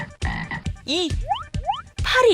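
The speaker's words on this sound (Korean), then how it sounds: "개구리" Frogs croak in a cartoon Bible story for children about the plagues of Egypt, loud close ribbed croaks and rising squeaky calls arriving in several quick bursts with short gaps between them.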